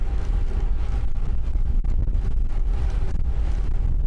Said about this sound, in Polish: Wiatr jest taki, że raz dmuchnęło z boku, to się prawie przewróciłem.